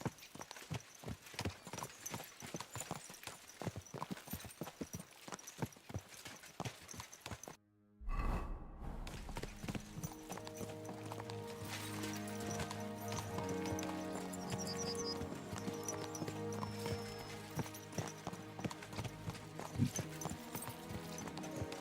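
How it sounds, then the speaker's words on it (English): Horses' hooves in Kingdom Come: Deliverance II, a rapid clip-clop of hooves over ground, then after a brief cut a steadier trot under a musical score, close and fairly quiet throughout. "Let's really spur these horses on, eh?"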